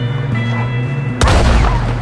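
A loud, close gunshot from the video game Red Dead Redemption 2 cracks sharply over a low background rumble, followed by a ringing, echoing tail.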